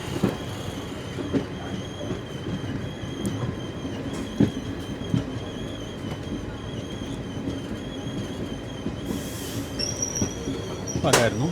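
The Koyna Express pulling away again after a brief stop, with steady rumbling train noise, occasional clicks and knocks, and a short squeal of wheels near the end, heard from inside an AC chair car.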